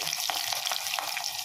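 Chilies frying in hot oil in a pan, a close, steady sizzle with small rapid crackles and pops throughout, no voices.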